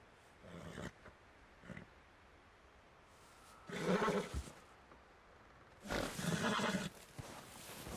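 Horse in the game Red Dead Redemption 2, giving loud, strained whinnies and snorting neighs in separate bursts, with a shorter snort early on and quiet hoof movement between calls.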